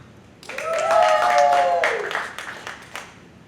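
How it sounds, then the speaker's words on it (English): Comedy club audience at a stand-up competition claps and whoops, swelling quickly into a loud burst with voices cheering over it, then fading back down to a thin patter. "Clap it up for Kyle."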